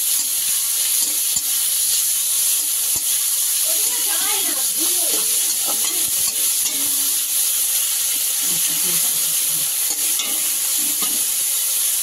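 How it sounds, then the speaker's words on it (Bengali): Prawns frying in a pan with a loud, hissing sizzle that runs unbroken, while a voice talks faintly beneath it partway through. "দেখতেই পাচ্ছেন চিংড়ি মাছটা লাল লাল করে ভাজা হয়ে গেছে"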